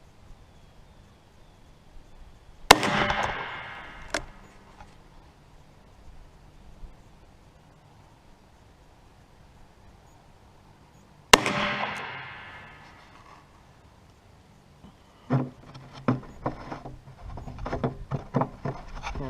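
Taurus .44 Magnum revolver firing outdoors while being sighted in for deer season, two sharp, loud shots several seconds apart with decaying echoes, then scattered handling clatter.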